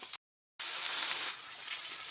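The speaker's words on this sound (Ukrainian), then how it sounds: "Все тут підсмажується, шкварчить уже цибулька і грибочки" Steady crackling sizzle of onions and wild mushrooms frying in a hot pan, broken by a brief silent gap near the start, then continuous and close.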